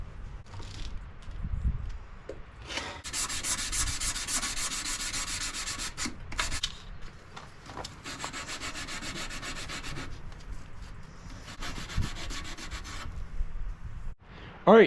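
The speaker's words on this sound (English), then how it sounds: "All right, we're gonna start hand sanding with 220 grit sandpaper." A Damascus knife blade is hand sanded with 220 grit sandpaper, long rhythmic rasping strokes coming in several close bursts with short pauses between them.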